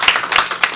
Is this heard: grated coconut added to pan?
no